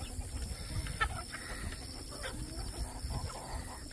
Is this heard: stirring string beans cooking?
no